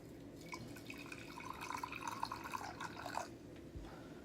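Hot water poured gently into a kyusu teapot for gyokuro tea, a soft, quiet trickle and splash lasting a few seconds before stopping, with low room hiss underneath.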